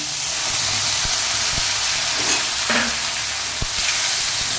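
Ground cumin and leaf paste dropped into hot oil in a pan while cooking a gadal leaf dish, giving a steady close sizzle and hiss throughout, with a few soft clinks of a spoon against the pan.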